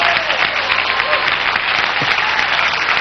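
A church congregation claps steadily and loudly throughout, a dense continuous wash of many hands with faint voices mixed in.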